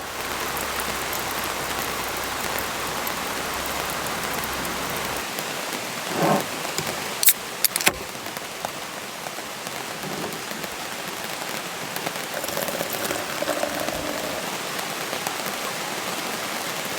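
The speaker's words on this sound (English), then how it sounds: "It's really nice with the rain and the thunder" Steady heavy rain patters down throughout, with a sharp, close crack of thunder partway through and low rumbles afterward, no voices.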